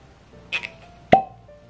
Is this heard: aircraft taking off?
no